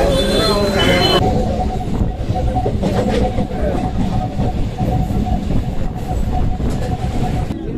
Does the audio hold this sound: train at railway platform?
yes